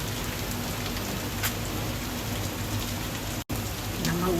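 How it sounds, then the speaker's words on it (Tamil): Heavy rain pours steadily outdoors during a cold Diwali evening, a dense continuous hiss with occasional sharper drops and a faint voice underneath, broken by one brief cut. "தீபாவளி பாருங்க, மழை மழை மழை மழை"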